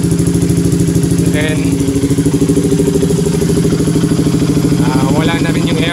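A KTM RC 200 motorcycle engine idling steadily at about 1,500 RPM after an oxygen sensor fault, with a loud, close, even low pulsing throb while someone speaks briefly.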